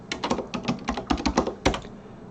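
Someone types a terminal command on a computer keyboard while setting up the Windows Subsystem for Linux (WSL): a quick run of close, crisp key clicks with an uneven rhythm, ending in a slightly harder keystroke.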